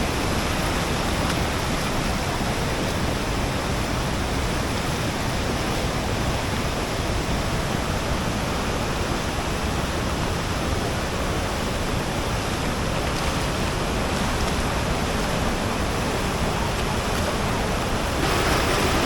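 A waterfall at the Dhutpapeshwar temple in the Konkan roars during heavy monsoon rain, a dense, loud and unbroken rush of water that stays steady from start to finish.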